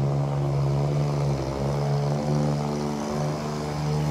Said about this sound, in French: Tiens, un petit bateau qui arrive là-bas.